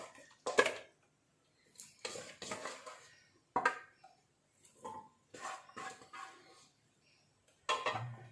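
Meat and bones for kappa biriyani dropped into a pressure cooker, giving several separate clattering clinks and knocks of metal and pieces landing, spaced out with short pauses, close and fairly quiet.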